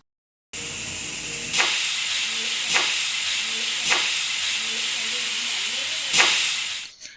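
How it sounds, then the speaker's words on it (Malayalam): A pressure cooker of lentil curry on the stove gives off a loud, steady steam hiss, broken by several short, sharp bursts of venting at irregular moments before the sound cuts off abruptly. "കുക്കർ അടച്ച് വെച്ച് നമുക്കിത് വേവിച്ചെടുക്കാം ഇനി ഒരു മൂന്ന് വിസിൽ വരുന്നത് വരെ നമുക്കൊന്ന് വെയിറ്റ് ചെയ്യാം"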